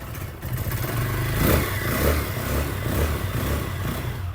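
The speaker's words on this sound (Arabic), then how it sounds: "ما شاء الله الموتور صوته هادي جدا، التزويده بتاعته" An Apache RTR 160 2V motorcycle engine with a heavily muffled exhaust, revved several times by hand: soft, rising and falling swells over a low running rumble, recorded close to the engine, with no speech.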